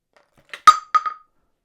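An iPhone 16 Pro Max fitted with a UAG glass screen protector dropped from four feet onto a hard surface, giving a few sharp, close clinks as it strikes and bounces once or twice in an otherwise quiet room.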